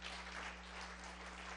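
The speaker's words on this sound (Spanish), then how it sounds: "Dele un fuerte aplauso al Señor." Applause from a church congregation during a sermon, heard as a faint, steady wash of many hands clapping together, continuous and distant over a low hum.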